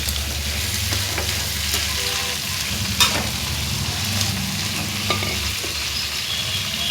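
Crab pieces frying in a pan with onions already fried golden, for a Mangalore-style crab ghee roast; a steady, loud sizzle continues throughout with a few stirring scrapes and clinks near the middle.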